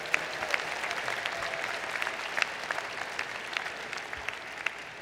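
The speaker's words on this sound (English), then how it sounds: "So give them another round of applause." An engineering graduate commencement ceremony crowd applauds steadily, a continuous wash of many hands clapping at moderate distance in a large hall, with no voices over it.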